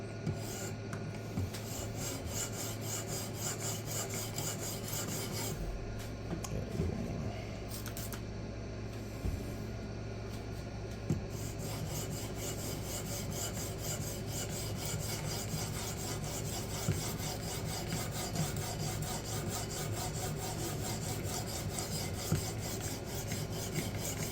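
A blade is worked on a 1x6-inch resin-bonded diamond sharpening stone, rolling the burr back, giving a steady close rasping scrape that runs continuously throughout with rhythmic stroke-by-stroke variation and no talking.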